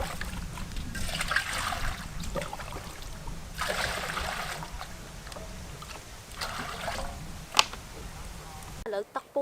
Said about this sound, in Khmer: ឥឡូវនេះយើងចាប់ដាក់ដាំទឹកសិនឥឡូវ